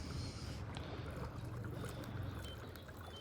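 A PowerPole Move electric motor on a kayak runs in reverse, giving a faint, low, steady hum under soft water movement and light trickling against the hull.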